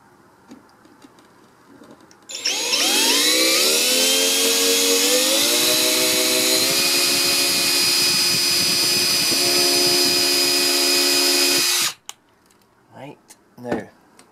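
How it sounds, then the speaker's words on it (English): A small 2mm drill bit bores into the gravel base of a model caravan park diorama, a loud, steady high motor whine that starts abruptly, holds for about nine seconds and cuts off, with no talking over it. "2mm drill."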